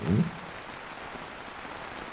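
Steady rain falls and patters on surfaces in an audio drama scene, a constant soft hiss of drops continuing evenly after a brief low thump at the start, with no one speaking.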